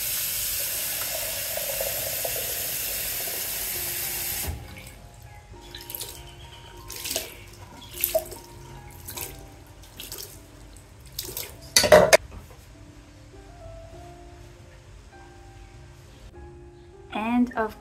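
Water poured from a wash cup for ritual handwashing in the kitchen of an Orthodox Jewish home, a steady rushing pour of about four seconds followed by scattered clinks of dishes and cutlery and light drips.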